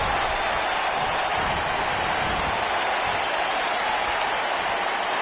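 A wrestling crowd applauds and cheers in a steady, dense roar of clapping and voices that fills the whole stretch without letting up.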